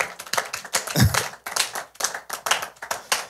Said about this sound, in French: Est-ce qu'on peut acclamer pour Papa Vincent, s'il vous plaît?